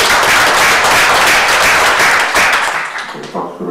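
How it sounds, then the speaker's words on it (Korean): Audience claps at a forum on the peace economy and the Kaesong Industrial Complex, a dense, loud burst of applause that thins out and fades near the end. "크게 박수 한번 보내주십시오"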